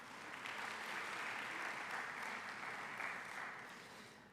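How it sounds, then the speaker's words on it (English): A round of audience applause at a university research and innovation day, a broad even wash of many hands clapping that swells in and holds steady before tapering slightly, heard alone without talk. "May we please have another round of applause."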